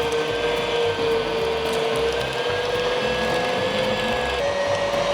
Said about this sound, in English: So you just want to grind coarsely one time all of your meat and your pork